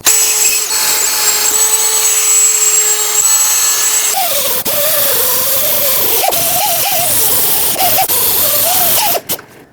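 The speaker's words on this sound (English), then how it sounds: "there is a lot of rust built up here that I want to sand flat" A power sander grinds built-up rust off the exhaust flange of a 2013-2020 Nissan Pathfinder during a catalytic converter job. After a steady whine at the start, the tool sounds rougher and louder under load, runs continuously and close by, then cuts off at the end.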